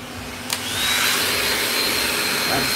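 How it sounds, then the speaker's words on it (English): A hair blow dryer switches on with a brief click and then runs steadily as a loud, close, continuous whoosh of airflow, with no talking over it. "I'm gonna go ahead and blow dry now."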